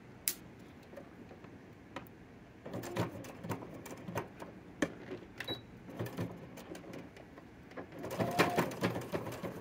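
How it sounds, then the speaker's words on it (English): A home sewing machine stitching slowly through many stacked layers of fabric while a welt pocket with flap is sewn onto a trench coat, giving irregular, fairly faint ticks and taps from the needle with no talking. "my sewing machine loves sewing through this many layers of fabric"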